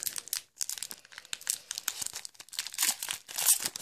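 The plastic foil wrapper of a Pokémon XY-era Mega Venusaur booster pack crinkles and tears open in close, quiet bursts with short pauses between them.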